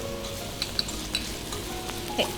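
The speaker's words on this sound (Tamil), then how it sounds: "வெங்காயம் நல்லா வதங்கணும்" Onions sizzle steadily in a hot pan for a prawn thokku, a close, even crackling fry with a few light stirring scrapes and no voices.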